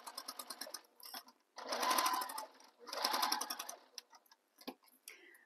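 A sewing machine stitches a tote bag in several rapid runs of close, steady mechanical whirring and ticking, separated by short pauses and lighter clicks.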